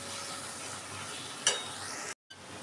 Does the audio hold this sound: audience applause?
no